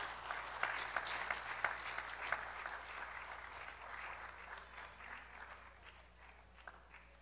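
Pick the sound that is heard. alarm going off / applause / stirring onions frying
applause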